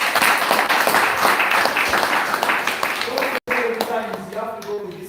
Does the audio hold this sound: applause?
yes